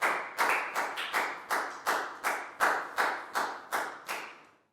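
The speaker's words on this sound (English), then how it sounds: "High five and a big round of applause for Pangpon." A short burst of about a dozen sharp, evenly spaced claps from a classroom, loud and close, with no voices.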